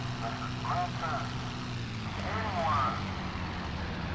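Propeller aircraft engine droning steadily in the IL-2 Sturmovik flight combat game, a loud continuous hum with wavering tones, heard alongside background game sounds.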